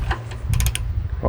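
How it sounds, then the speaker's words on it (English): A torque wrench set to 35 foot-pounds ratchets in a quick burst of close metallic clicks, with a few lower thuds and a low mumble around it. "We're gonna torque it down to 35 foot-pounds."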